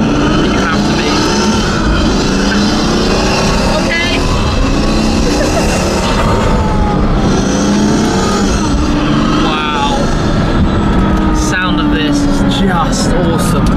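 Loud, close Pagani Imola engine roar with rushing intake snorkel noise heard from inside the car on a racetrack, rising and falling in pitch through gear changes, with voices talking over it.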